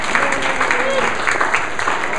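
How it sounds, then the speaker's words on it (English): Audience applause at a fanfiction writing-track convention panel, a steady wash of many hands clapping close and loud throughout the short stretch, with no talk over it. "so let's give him a big round of applause."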